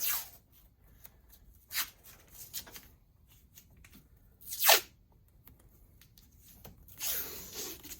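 Masking tape is pulled off the roll in short tearing rips and pressed down for paint prep on a driveshaft part, with a few sharp strips separated by quiet handling.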